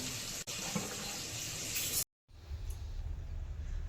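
Tap water runs steadily into bottles in a home kitchen, a continuous close rush that cuts out briefly and then resumes a little quieter.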